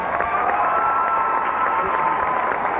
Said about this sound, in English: How about a round of applause for all our contestants on stage?